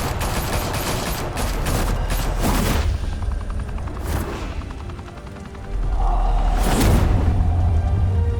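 Gunfire fills a scene in the Telltale Batman video game: loud, dense bursts of shots and booms up close, followed by a steady rumble and a few more sharp cracks.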